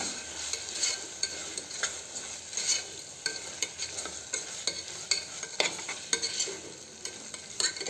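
Masala fries in oil with salt and turmeric for broken wheat pulao, a steady hiss of sizzling under repeated quick scraping strokes of a spoon against the pan, close by and without voices.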